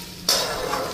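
Leftover cooked rice hits a hot pan and bursts into a loud sizzle after a moment of quiet, then keeps frying steadily and close up.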